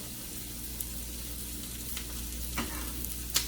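Sliced garlic sizzling in a pan for carnitas, a quiet, steady frying hiss with a few faint clicks and scrapes of stirring.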